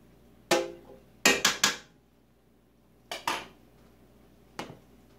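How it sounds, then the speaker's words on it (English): Broth being stirred into cornbread dressing in a roaster: sharp, close metallic clanks and scrapes of a utensil against the pan, in short clusters of one to three knocks separated by quiet pauses, without talk. "I'm going to just stir that in first because it's hot"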